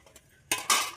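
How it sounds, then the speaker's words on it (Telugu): Chitti garelu batter being mixed in a bowl, a quiet start followed by two close, loud bursts of wet scraping and utensil clatter. "ఇక్కడ చిట్టిగారెల పిండి కలుపుతుంది"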